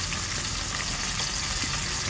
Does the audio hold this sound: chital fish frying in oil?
yes